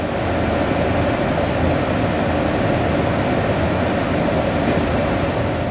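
A train pulls out of Graz station at night in Austria, heard from inside as a loud, even rumble of wheels and carriage noise with no breaks.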